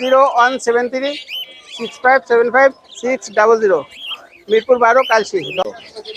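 Caged birds, including a yellow parakeet, chirping and tweeting throughout at a bird market in Mirpur, Dhaka, mixed with people talking nearby over a busy, close background.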